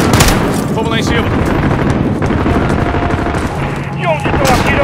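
Rapid gunfire in the Call of Duty Modern Warfare 2019 campaign, dense bursts and booms filling the whole stretch without letup, with distant in-game shouting mixed in.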